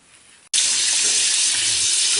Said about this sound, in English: Okay, so I've got my hot water and my warm water running.